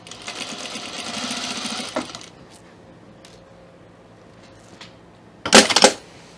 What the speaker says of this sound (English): And now I'm going to top stitch all the way down